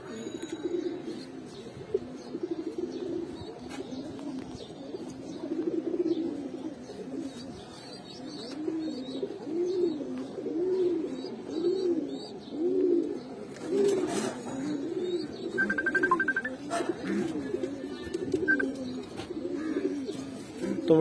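Pigeons coo steadily in low, rolling repeated calls throughout, with a female bird on offer at a pigeon seller's among green-throated and black-throated birds, plus a brief higher chirp midway.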